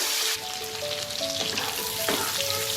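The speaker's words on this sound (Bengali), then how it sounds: "অল্প একটু হলুদ আর অল্প নুন দিয়ে পটলগুলোকে ভেজে নেব।" Pointed gourd (potol) frying in hot oil with turmeric and salt, a loud close sizzle with occasional stirring, continuous throughout.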